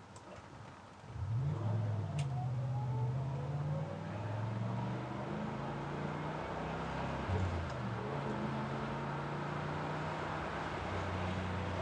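A 1977 Chevrolet Camaro Z28 drives along at about 50 miles per hour, its engine note climbing and dropping as the transmission shifts, heard steadily from inside the car.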